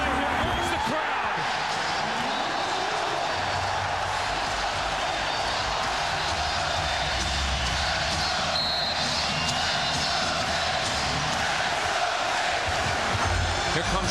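A packed arena crowd at a 1999 NBA Finals game between the New York Knicks and San Antonio Spurs roars in a loud, sustained wash of cheering, with an announcer talking over the din.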